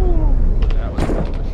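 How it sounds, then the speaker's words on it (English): A single gunshot in the Iraq war shooter Six Days in Fallujah, a sharp burst with heavy reverb that rings out over a rumbling low background, partway through a short stretch. "That gunshot that just played"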